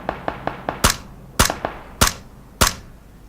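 Loud, sharp unsuppressed gunshots in the video game Battlegrounds, four heavy cracks at irregular intervals after a quicker run of lighter pops.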